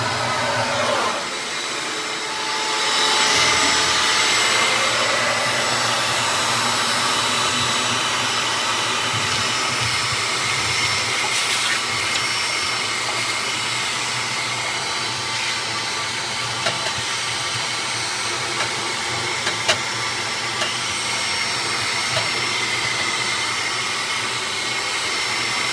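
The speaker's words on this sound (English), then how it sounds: "I will go the other direction with my little vacuum here, and I will suck this thing and get her just as clean as I possibly can." A small vacuum runs for a long stretch while it cleans out a Traeger smoker grill. It makes a loud, continuous whooshing hiss with faint knocks as it works inside, and nobody speaks.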